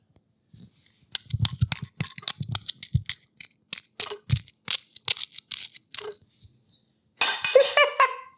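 Extra crispy batter fried chicken gives a run of sharp, close crunches and crackles in irregular bursts, then a final flurry of louder crisp crackling.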